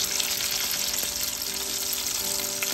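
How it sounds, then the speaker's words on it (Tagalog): Chicken deep frying in hot oil, a dense, steady, loud sizzle and bubbling that runs unbroken throughout with no voices. "i-deep fry na natin siya"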